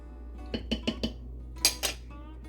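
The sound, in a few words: spoon stirring ingredients in a bowl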